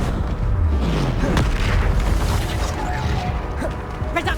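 A Reducto spell blast goes off in the Hogwarts Legacy video game, a loud booming crash amid a dense, continuous layer of combat effects and rumbling, with a few sharp impacts over the span.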